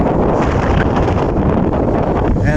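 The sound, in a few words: wind on Mt. Samat, Bataan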